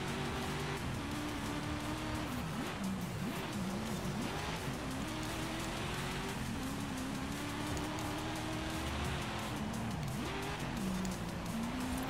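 Ford Escort RS Cosworth from 1992 in the Forza Horizon 5 racing game, its engine droning steadily with rising and falling revs and occasional tire scrabble on a dirt trail, loud and continuous throughout.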